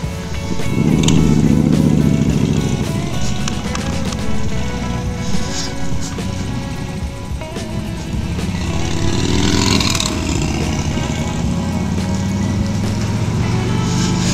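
Several Harley-Davidson motorcycles ride out together on a Tasmanian road trip from Smithton to Launceston, their engines a steady, loud, continuous drone with a low rumble that swells near the start and again later, with no talk over it.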